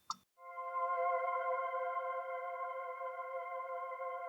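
The E3 synth pad preset from a Korg M1 plays solo, a soft click followed by a sustained, even chord that swells in and holds steady and smooth at a fairly quiet level.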